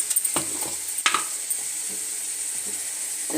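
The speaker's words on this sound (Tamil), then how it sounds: "எண்ணெய் ஊற்றி கடுகு போட்டு இஞ்சி பூண்டு பேஸ்ட்டு போட்டு" Mustard seeds and ginger garlic paste frying in oil, a constant bright sizzle with scattered pops and a few scraping stirs of a spoon, close by and without speech.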